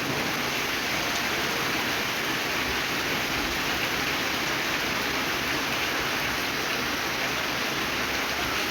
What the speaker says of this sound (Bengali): অবশেষে অনেকদিন পর স্বস্তির বৃষ্টি।